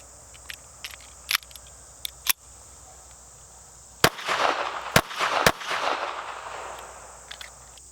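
A Taurus Spectrum pistol fires during a reliability test: several sharp, loud shots at irregular intervals, the later ones followed by a rushing, noisy burst before things settle again.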